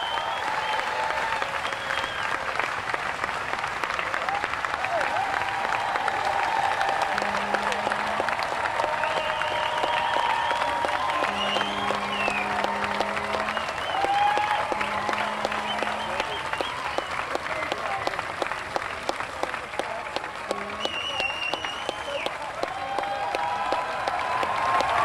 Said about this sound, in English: please welcome a massive round of applause